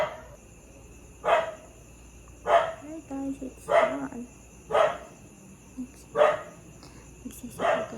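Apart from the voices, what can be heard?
dogs barking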